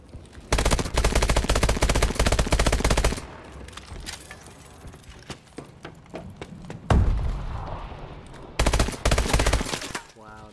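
Rapid video game gunfire roars in long, loud automatic bursts, breaking off into scattered single shots and thumps before another sustained burst, with a voice talking in the gaps.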